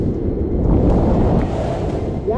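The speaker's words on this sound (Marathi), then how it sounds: "इथं चालू आहे पडसे वॉटरफॉल ना, मागा चालू आहे हजारो असंख्य असे धबधबे." Monsoon waterfalls flowing heavily at Tamini Ghat, a dense, continuous roar of rushing water mixed with wind buffeting, loud and unbroken with no clear individual splashes.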